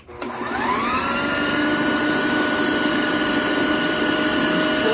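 An electric mixer runs steadily, whirring through keto lemon pound cake batter at close range, a continuous motor drone that starts within the first half second and holds for the rest of the stretch with no talking.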